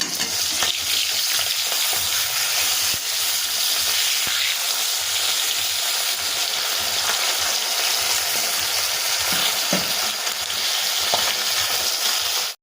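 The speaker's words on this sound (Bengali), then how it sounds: "মাছের এক পিঠ খুব ভালোভাবে ভাজা হয়ে গেছে এবার আমি মাছের অন্য পিঠ উল্টে একইভাবে ভেজে নেব" Loud, continuous sizzling of bata fish frying in hot oil, a dense crackling hiss with occasional pops and scrapes, close up.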